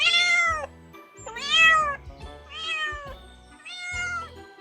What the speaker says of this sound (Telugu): కాండ్రించాల్సిన సింహం కాస్త పిల్లి సౌండ్ లాగా వస్తుంది